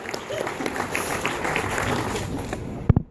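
Audience applause at a Samsung curved UHD TV launch event in Australia, a moderate crowd wash of clapping running steadily beneath faint voices before a couple of sharp thumps and a sudden cutoff.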